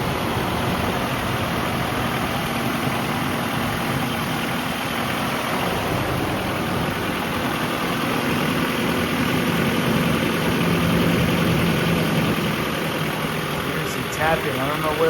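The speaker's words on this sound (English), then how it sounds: "tell me what you think this tapping sound is" A cold Nissan D21 pickup truck idles with a steady engine drone, and a faint, regular tapping from the top end of the engine sits within the hum.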